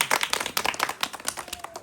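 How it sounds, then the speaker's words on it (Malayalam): An audience at a reunion gathering with elderly mothers breaks into brief, dense clapping, many hands striking in quick, overlapping bursts at fairly close range. "പ്രശാന്തിന് ഏറ്റവും നല്ലൊരു ക്ലാപ്പ്"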